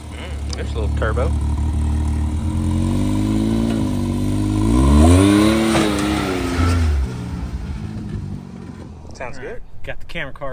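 Can-Am Maverick X3 XRS turbo side-by-side with its mid pipe swapped out, revving loudly as it passes. The engine note climbs and falls in swooping surges and then fades, with voices talking over it.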